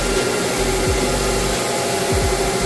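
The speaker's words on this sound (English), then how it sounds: "She's taking care of the floors with our counter-rotating brush machine." A counter-rotating floor brush machine cleans and strips wax from a parquet floor with a loud, steady, broadband motor whine and brushing roar, close by and continuous, occasionally dipping in pitch.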